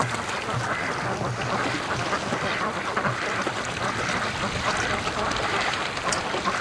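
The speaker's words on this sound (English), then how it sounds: "Oh, little duckies." Free-range ducks quacking outdoors in cold winter wind, a busy flock calling over steady wind noise.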